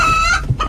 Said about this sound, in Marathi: कोंबड्या व्यवस्थित धरून बसा बाहेर जातील ना